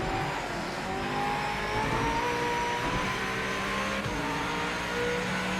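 Race car engine in the Project Motor Racing sim game, a steady sustained drone with a rising and falling pitch as it revs through the gears, loud and continuous with no voices over it.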